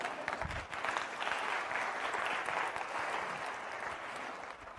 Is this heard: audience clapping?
yes